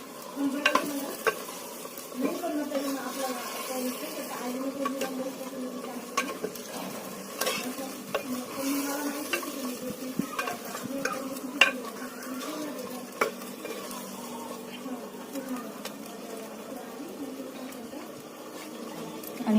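Mutton stirred in a clay pot over a smoky wood-fired village stove, with steady scraping and clinking strokes against a constant close sizzle of frying.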